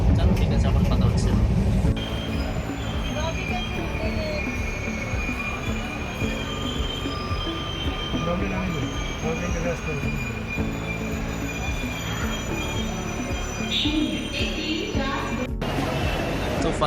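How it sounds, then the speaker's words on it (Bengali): A train pulls away from Thane station with a loud rumble and long, shrill wheel squeals that sustain high tones throughout, heard close on the platform over crowd chatter and voices. "আর এই ট্রেনে আসছিলাম আমরা, ট্রেনটা চলে যাচ্ছে"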